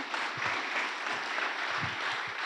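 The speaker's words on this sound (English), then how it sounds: "Let's give it a round of applause to our presenters." Steady audience applause for the presenters at an evening real estate investor networking meeting, a full room clapping continuously at moderate volume throughout.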